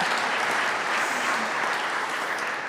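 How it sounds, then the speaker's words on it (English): Applause from the crowd at the Barry Goldwater statue dedication, an even wash of many hands clapping, moderately distant and sustained for a few seconds without talk. "And that's an applause line."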